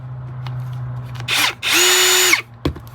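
A Ryobi impact driver runs in two close bursts, the second longer and steady, then a short sharp knock at the end, loud and with no talking.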